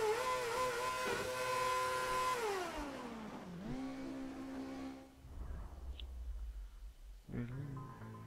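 Williams Formula One car engine in the F1 2011 racing game, a loud sustained high-pitched whine that sweeps through several gear changes, dropping in pitch before fading to a low idle rumble with a brief rev at the end.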